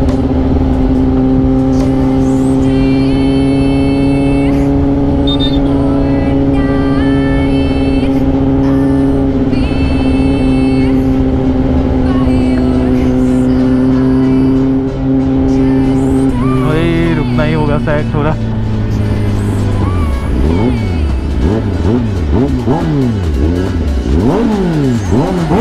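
A Kawasaki ZX-10R sport bike fitted with a loud SC-Project exhaust idles and revs close by, a steady throbbing drone that climbs into sweeping rising and falling revs near the end.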